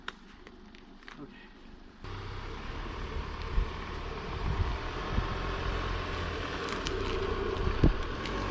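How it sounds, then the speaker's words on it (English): Wind in a national forest area near Lake Powell, a low rumbling buffet against the microphone that swells after a quiet start and stays steady, with an idling vehicle faintly underneath. "It's a little windy out here"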